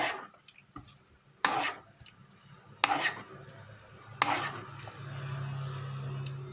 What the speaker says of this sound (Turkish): Daha sonra bütün her tarafına eşit gelsin diye kaşık yardımıyla buluyorum.